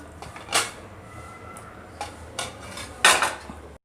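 Fried potatoes go into a pressure cooker while a mutton curry is made. A metal spoon scrapes and clanks against the pot in several sharp, close knocks with quiet pauses between, and no one speaks.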